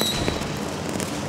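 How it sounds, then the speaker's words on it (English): A small consumer fountain firework sprays sparks and flame with a steady, loud, hissing crackle for just over a second. "It's basically just a fountain that emits sparks and flame."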